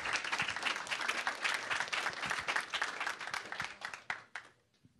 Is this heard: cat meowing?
no